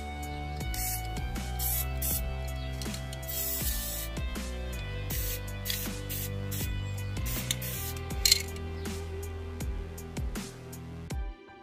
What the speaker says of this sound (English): So I've sprayed the whole figure black, even coat of black all over.